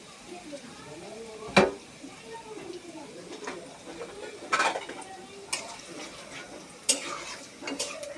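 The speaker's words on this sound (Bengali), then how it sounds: "এখানে আম্মু পেঁয়াজ ও রসুনটি একটু নাড়া দিয়ে করে নেবে," Onion and garlic fry lightly in a pan as a spoon stirs them, a low sizzle under sharp scraping clinks of utensil on metal at irregular moments, close by.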